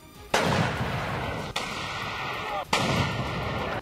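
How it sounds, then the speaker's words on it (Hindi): Three heavy booming shots ring out as an artillery launcher fires shells in succession, each followed by a lingering rumble, loud and close with a faint tone between blasts. "जैसे ही उसने रस्सी खींची, जोरदार धमाके के साथ लॉन्चर से गोला फायर हो गया"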